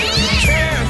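A house cat meows in a sustained, wavering cry, close and loud, standing alone with no talk over it.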